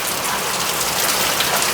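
Heavy monsoon downpour in Ranebennur taluk, Haveri district: a loud, close, unbroken roar of rain pounding on surfaces, dense and steady for the whole stretch with no voices.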